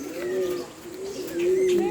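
Pigeon or dove cooing in soft, rolling calls, fairly close and clear, with a few faint chirps above and no voices.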